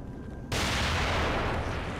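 A single grenade blast from The Evil Within hits abruptly after half a second of quiet, a loud, broad burst that rolls on as a sustained rumbling roar for the rest of the moment.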